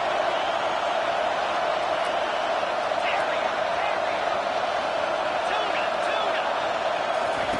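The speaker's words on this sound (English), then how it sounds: "The crowd is roaring, trying to help this defense on fourth down." Steady roar from a stadium crowd in a Madden football video game, rising on a fourth-down defensive play and running continuously beneath a commentator's talking.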